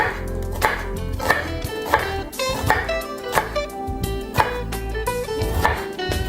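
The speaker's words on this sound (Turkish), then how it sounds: "Ve kırmızı soğanı da mümkün olduğunca küçük küçük ince ince doğrayacağım" A knife finely chops red onion on a cutting board, steady sharp taps repeating about every half second, close and distinct, with a faint hum behind.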